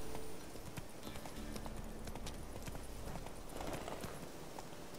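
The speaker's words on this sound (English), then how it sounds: "blasted horse, work with me here" Horse hooves clip-clop steadily in The Witcher 3 as the rider heads into the woods toward the Peller's hut, a close, continuous rhythmic trot over game ambience with no talk.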